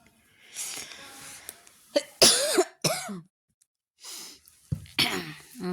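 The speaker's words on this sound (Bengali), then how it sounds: "কাশি হয়েছে বন্ধুরা" Repeated coughing from a person in a home kitchen while mixing spinach (palong shak) chop batter by hand: several sharp, close bursts with short breaths between them, loud and dry, with no talk over them.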